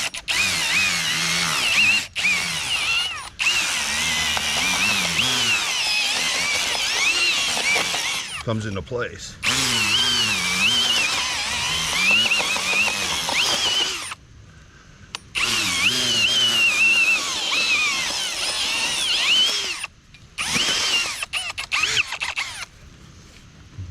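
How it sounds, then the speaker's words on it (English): A brushless hammer drill with an auger whines loudly and steadily as it bores into soft soil while digging for gold, stopping and restarting several times, with someone talking briefly over it. "this is where having the drill auger"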